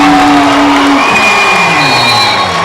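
Loud basketball crowd at a boys' regional final in Auburndale erupting in cheers, whoops and yells after a made three-pointer, a dense sustained roar filling the whole moment with a few shrill whistles riding over it.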